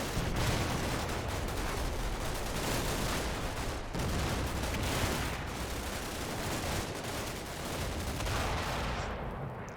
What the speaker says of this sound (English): a machine gun team, who are now finding the worst end of an Mi-24 strafing run